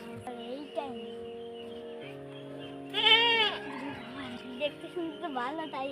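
A goat bleats at a livestock market, with several wavering calls and one loud, close, drawn-out bleat in the middle. Background chatter and market noise run throughout.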